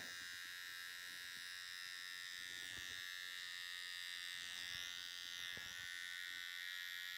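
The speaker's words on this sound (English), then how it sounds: "I use the very toe of my trimmer to put the line in." An electric hair trimmer buzzes steadily at close range while cutting a woman's short hair, with soft snips and small handling sounds underneath, and no talk.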